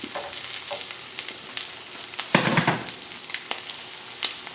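An egg fries in a pan with a close, continuous crackling sizzle, a brief louder burst midway and scattered sharp pops, no voices.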